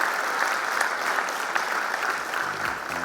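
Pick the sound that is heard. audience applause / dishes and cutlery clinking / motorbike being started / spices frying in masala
audience applause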